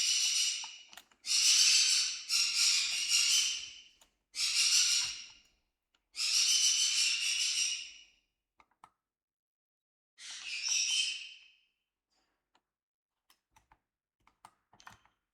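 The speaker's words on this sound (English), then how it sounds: "Some noisy birds." Harsh, raspy bird calls come in several loud bursts with short pauses between, close by, followed by faint scattered ticks and clicks.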